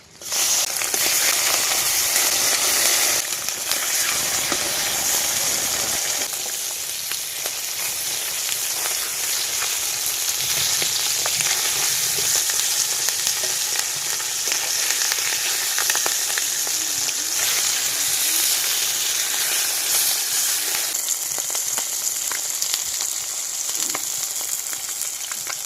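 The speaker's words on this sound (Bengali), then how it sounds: "তেল গরম হয়ে গেছে, মাছগুলো ভেজে নেব।" Fish fry in hot oil in a wok in a rural Sundarban kitchen, giving a dense, continuous loud crackling sizzle that holds steady at close range for the whole stretch.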